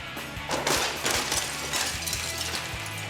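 Breakaway props and glass shatter on a film set as a stunt performer is thrown backwards into a framed painting and flowers, giving a dense burst of crashing and breaking over about three seconds with no talk.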